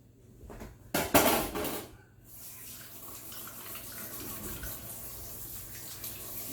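A kitchen tap runs while a finger is rinsed under it, with a short louder splash burst near the start and then a steady, softer stream of running water continuing to the end.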